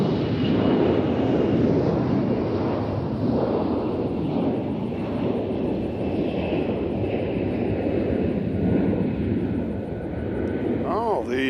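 An airplane at Nashville International Airport gives a loud, steady engine roar with broadband rumble that holds throughout, carrying a faint high whine, with voices talking underneath.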